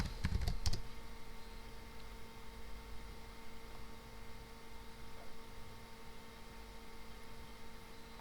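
A short burst of a few sharp keystrokes on a computer keyboard while a terminal command is entered, close and crisp at the start, then only a steady low electrical hum and room noise for the rest.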